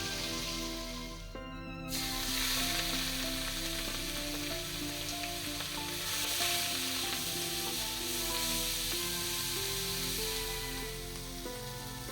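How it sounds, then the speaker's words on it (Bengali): Pieces of fish sizzle steadily in hot oil, a continuous crackling fry that carries on throughout, with music playing over it. "মাছগুলি মা প্রথমে ভেজে রেখে দিচ্ছে"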